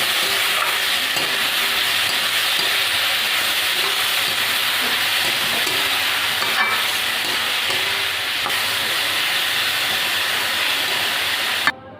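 Potato and demi greens with salt and turmeric fry in a pan, giving a dense, even sizzle that hisses continuously at close range and cuts off abruptly at the very end.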